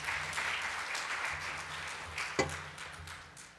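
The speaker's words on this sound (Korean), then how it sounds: "다시 한번 큰 박수를 부탁드리겠습니다" An audience at a forum session on real estate technology claps after a presentation ends, a moderate, somewhat distant round of applause that continues for a few seconds, with one sharp knock near the middle.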